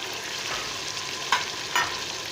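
Tomatoes and green chillies frying in a pan for a dal masoor dish, a steady close sizzle with two sharp spoon stirs near the end, no voices.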